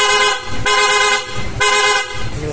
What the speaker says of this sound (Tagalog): Ito yung pinaka P horn, sir. Kasama yung rapid horn.